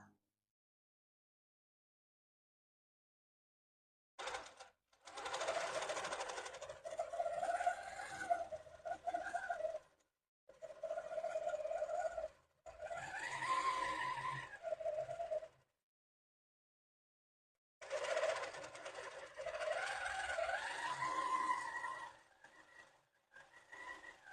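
Sewing machine stitching fabric scraps for a crumb quilt whirs in three or four separate runs of a few seconds each, with pitch shifting as the speed changes and quiet gaps between them.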